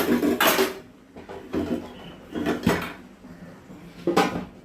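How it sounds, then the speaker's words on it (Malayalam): A lid goes onto a cooking pot with several sharp metallic clanks and rattles spaced over a few seconds, with quieter handling sounds between them. "അപ്പം ഇതിനിങ്ങനെ നല്ലോണം മൂടി കൊടുക്കുക"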